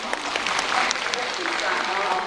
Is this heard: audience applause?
yes